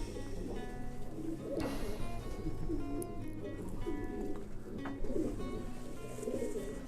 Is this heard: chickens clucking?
no